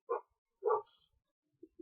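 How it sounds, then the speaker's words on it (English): Two sharp dog barks close by, separated by a pause, followed by a couple of softer yips or whines near the end, with no talking. "Sorry if you hear my dogs barking."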